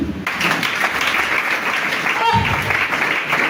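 Church congregation applauding in acclaim, a steady roar of clapping close by with voices mixed in, loud from start to finish.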